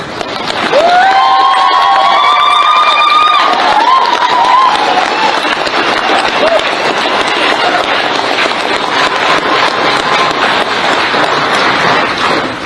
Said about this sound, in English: Now all together, clap as hard as you possibly can.